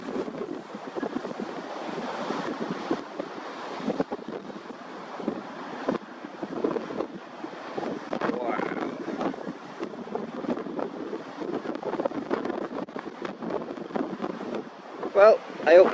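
Ocean waves from a 3-5 ft swell at 9-second intervals roll in at the shore under strong gusting wind that buffets the microphone, with a rough, uneven roar building and easing, and a person speaks at times.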